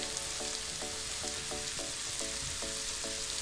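Capsicum and frozen peas fry in a pan for pav bhaji, a dense close sizzle with a regular series of stirring scrapes about twice a second throughout.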